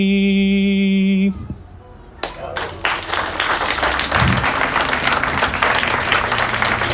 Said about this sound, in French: on peut applaudir la poétesse